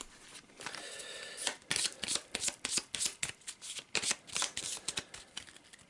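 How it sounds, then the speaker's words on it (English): Playing cards are riffled and shuffled back into a loot deck for a tabletop game, a quick series of crisp, close flutters and snaps following one another in an uneven rhythm, with no voices. "shuffle them back in the loot deck"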